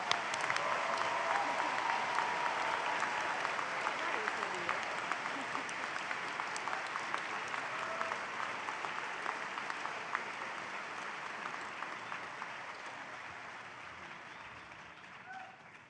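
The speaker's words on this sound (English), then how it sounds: "let's have a round of applause for the graduates who've crossed the stage" A graduation convocation audience gives sustained applause for graduates, a dense field of clapping from a large indoor crowd that slowly tapers off over about sixteen seconds.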